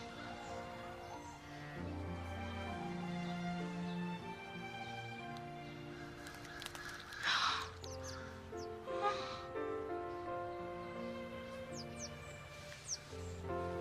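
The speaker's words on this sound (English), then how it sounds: "Bird." Crow-like caws and short chirps from a bird ring out intermittently over a steady tonal background, moderately loud.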